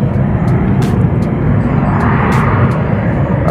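A fixed-wing airplane's engines roar steadily and loudly during a takeoff run at Sorocaba airport, with a constant broad rumble throughout.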